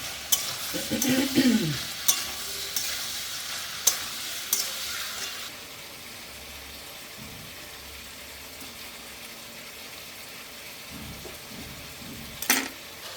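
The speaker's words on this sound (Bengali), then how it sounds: "এবার মিশিয়ে দেবো" Large shrimp and potatoes are stirred in a frying pan, with scraping strokes and sharp utensil knocks over a soft sizzle in the first few seconds. A quieter, steady frying hiss follows, then one more clack near the end.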